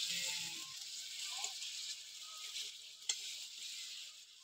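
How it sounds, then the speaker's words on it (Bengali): Eggplant being stirred with spices in a hot pan, a steady soft sizzle with faint scraping and a small clink partway through, fairly quiet throughout. "এবার বেগুনগুলো একটু নেড়ে চেড়ে নেবো, মশলাটা বেগুনের গায়ে ভালো করে লেগে যাবে।"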